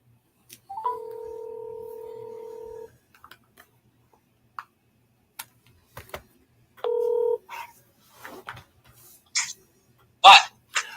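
Touch-tone keypad dialing on a phone: a long steady dual-tone beep, then a second shorter one a few seconds later, with faint clicks and brief murmuring between.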